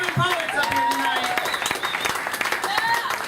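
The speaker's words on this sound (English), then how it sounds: "Big round of applause for you guys." Audience applause at an open mic poetry show in Bangkok, a steady wash of clapping with cheers and voices mixed in throughout, fairly close and full.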